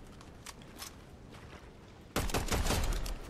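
Two or three sharp gunshots ring out in Fortnite, then a dense burst of rapid gunfire starts abruptly and keeps going loudly to the end.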